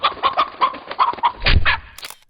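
A cartoon chicken clucks in a quick string of short, sharp squawks and clucks, loud and close, ending in a brief flurry.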